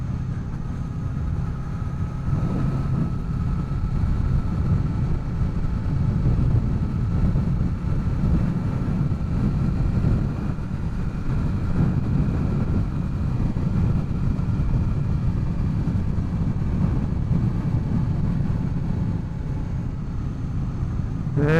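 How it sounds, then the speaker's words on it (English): A Honda VFR800 motorcycle with the exhaust baffle removed coasts along, giving a steady, loud low rumble with wind roar that stays constant throughout and no voices. "I don't know whether you've noticed a change in the exhaust note. It's a lot louder, I have to say."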